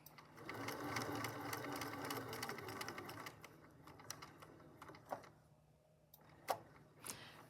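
A sewing machine stitches fabric on a plushie pet's nose. Its rapid, even mechanical chatter runs for about five seconds, stops, and then a few short clicks and taps follow as the work is pivoted.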